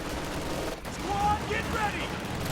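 Rapid machine gun fire in a real-time strategy game's combat, a dense sustained rattle of shots mixed with battle noise, loud and continuous across the moment.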